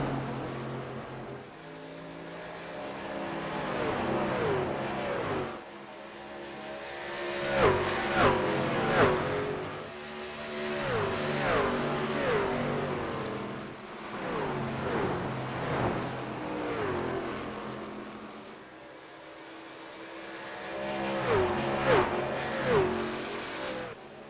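A race truck engine on a track, likely Charlotte or Daytona, revs in repeated surges, rising and falling over several seconds with strong harmonic sweeps, loud and steady with no talk over it.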